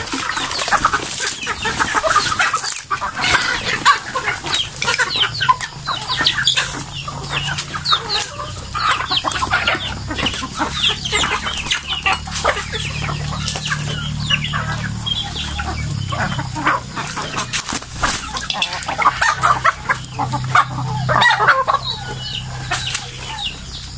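A flock of native chickens clucks and squawks busily at feeding time, with wings flapping and birds scrambling nearby, a dense, continuous farmyard chatter throughout.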